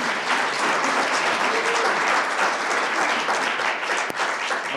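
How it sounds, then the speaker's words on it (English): Applause for a mayor at a swearing-in ceremony, a dense, loud and steady wash of many people clapping together that continues unbroken, with no speech over it. "yes, you can clap if you like"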